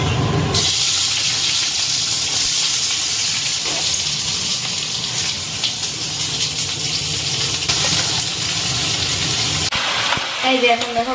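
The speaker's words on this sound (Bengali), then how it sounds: "এখানে পেঁয়াজ, কাঁচা পাকা লঙ্কা আর ক্যাপসিকাম কেটে নিয়েছি। এবার এই তেলটার মধ্যেই দিয়ে বানিয়ে নেব।" Sliced onion, green and red chilli and capsicum frying in hot oil for chilli chicken, a loud steady sizzle close up that runs throughout, with stirring scrapes near the end.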